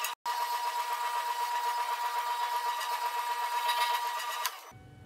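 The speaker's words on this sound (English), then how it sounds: "the next step is to use the orbital sander, and I'm just going to sand" An orbital sander runs steadily on wooden pieces for a key holder shelf, a loud continuous whirring buzz after a brief click at the start, then cutting off abruptly near the end.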